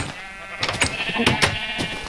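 Several short sheep bleats from a Minecraft Agrarian Skies modpack farm, spaced irregularly over soft game ambience, fairly close and clear.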